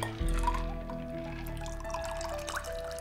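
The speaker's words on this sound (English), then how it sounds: "Pour it into our old-fashioned glass." A cocktail is poured into an old-fashioned glass, a soft, close trickle of liquid with faint drips, quiet and alone.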